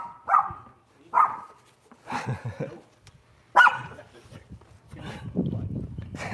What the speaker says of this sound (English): Dogs will be dogs.